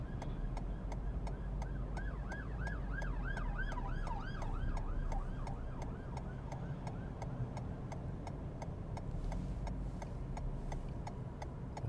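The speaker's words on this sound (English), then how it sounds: "There's the police car going." A police car siren wails in rising and falling sweeps as it passes on a busy road, heard over steady engine noise and regular ticking inside a driving-school car, fading toward the end.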